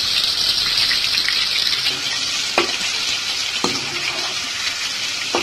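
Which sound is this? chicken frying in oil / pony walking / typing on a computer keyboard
chicken frying in oil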